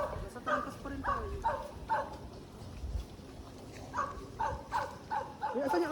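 A tied-up dog at an abandoned house barks and whimpers in a steady string of short yips, a little distant over constant rough background noise.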